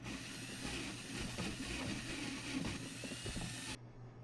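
A drill bit bores out a hole in a Bass Raider kayak hull, making a steady, close whining drone with a rough grinding edge that runs evenly for several seconds and then cuts off abruptly.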